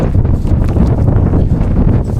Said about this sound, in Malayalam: തണുപ്പും കാറ്റും കൊണ്ട് നിൽക്കാൻ പറ്റുന്നില്ല